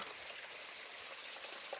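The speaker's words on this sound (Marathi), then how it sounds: "अगदी असं जमिनीतनं पाणी आलेलं, शुद्ध अगदी पाणी" Spring water welling up from the ground near Amba and Vishalgad in Kolhapur, a faint, steady trickling wash heard alone without voices.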